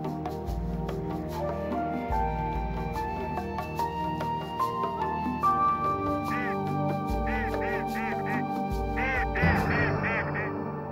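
Mallard ducks on a marsh quack repeatedly in short nasal bursts over a low, steady musical score, with several calls clustering toward the end.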